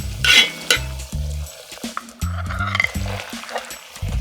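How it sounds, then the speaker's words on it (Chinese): Fried fish going into a wok of bean paste sauce with scallion, ginger, garlic, chili, star anise and Sichuan peppercorn, giving repeated bursts of scraping stir and sizzle with light clinks of the spatula, loud and close with short pauses between. "炒出香味以后呢，下入刚才煎好的鱼"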